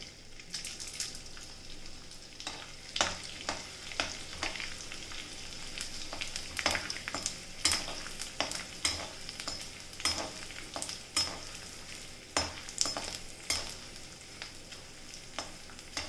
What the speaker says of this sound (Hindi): हम थोड़ा थोड़ा करके इसमें गोंद डालेंगे।